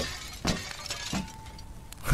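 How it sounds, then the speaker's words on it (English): Glass in a framed picture shatters inside the horror game Kill It With Fire: Ignition, with several sharp breaking bursts in quick succession, crisp and close, with no talking. "Shatter framed memories."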